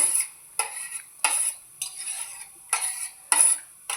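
Repeated stirring in milk with soaked almond gum, about seven short strokes in a steady rhythm, each with a brief swishing scrape and a faint metallic clink, close by.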